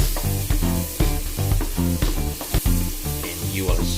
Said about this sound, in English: it's now time to put the garlic that was cut into its tiniest pieces